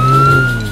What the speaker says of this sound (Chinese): 看，孩子们，那是一辆警车